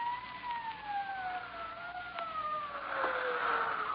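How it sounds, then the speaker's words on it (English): Police sirens wail in an old-time radio drama: two steady tones glide slowly downward together, fairly close and loud, over a low background hum, with a brief sharp click at the very end. "Sirens. Can't you hear them?"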